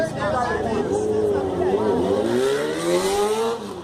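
A Honda vehicle's engine revs loud and close at a strength-and-action event in Jequié, the pitch climbing and dipping continuously, with voices talking over it.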